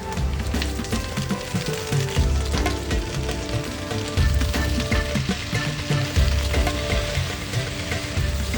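Onions, garlic and thankuni leaves fry in a pan with a steady, fairly loud sizzle and crackle that continues unbroken throughout, with no one talking.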